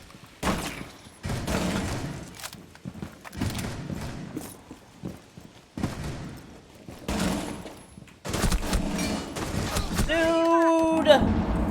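Rainbow Six video game gunfire, rapid bursts of shots in several clusters with a denser, louder volley near the end, someone talking over much of it.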